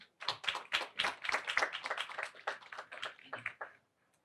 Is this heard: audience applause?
yes